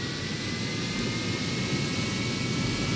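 A steady, continuous jet engine roar from a plane in the video game Kerbal Space Program, loud and unbroken for the whole stretch with no talk over it.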